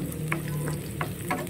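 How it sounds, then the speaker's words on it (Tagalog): Garlic and onion sautéing in a pan, a soft continuous sizzle with several light scraping stirs of a utensil, close and without talk. "Satay-satay lang natin tong ating garlic at saka onion."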